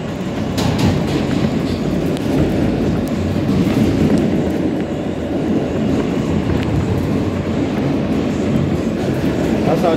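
An R160A E subway train runs along underground tracks, a steady loud rumble with faint rhythmic clatter throughout, heard from inside the car, with a brief voice early on.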